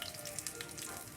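Chicken pieces frying in hot grease for a fried chicken dinner, giving a steady, close, dense crackling sizzle with fine pops throughout and no voices.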